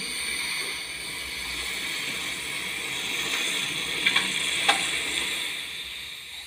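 A hot steel knife blade slowly dipped into salt water hisses and sizzles steadily, a soft continuous bubbling wash with a few faint sharper ticks near the end, heard alone.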